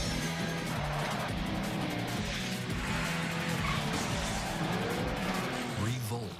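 A race car skids with squealing tires in a commercial for the Re-Volt RC racing video game, a loud continuous engine and tire roar filling the whole stretch with a rising squeal near the end.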